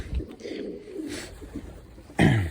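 Low pigeon cooing murmurs in the background, nearby, with a soft throaty bird sound and a louder coo near the end.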